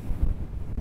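Gusty wind buffets the microphone on a small lake during late-summer crappie fishing, a steady low rumble that swells and dips before cutting off abruptly.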